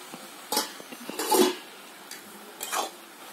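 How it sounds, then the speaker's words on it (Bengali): Lid lifted off a cooking pot of ash gourd simmering with chickpeas, a few clanks and scrapes of metal, close and fairly loud against quiet background. "এবার আমি ঢাকাটা খুলে নিচ্ছি।"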